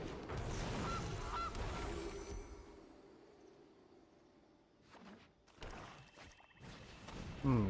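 The Gilded Goose card in Magic: The Gathering Arena gives a goose-like honking squawk near the start, followed by game interface chimes and whooshes, with faint rumbling effects underneath.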